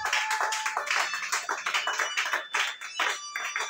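Church congregation clapping together during worship, a dense, sustained patter of many hands in steady rhythm, fairly close and full, with no talk over it.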